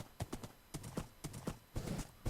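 A horse's hooves clip-clop quietly in a video game, irregular clusters of soft hoof strikes at a walking-to-trotting pace, heard alone.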